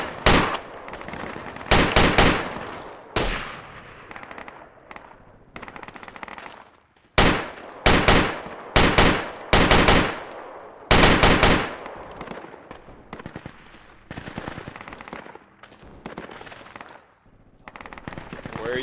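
Machine gun fire in Project Reality erupts in loud, sharp bursts separated by short gaps, with distant rattling shots between them and occasional voices underneath.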